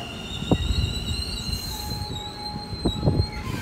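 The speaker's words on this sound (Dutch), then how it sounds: "Komt gewoon even een SNG'tje binnen, maar niet zomaar eentje" An NS SNG Sprinter electric train pulls into Delft Campus station in the Netherlands, a steady rolling rumble with a high sustained wheel squeal and brief clanks near the start and end, no voices.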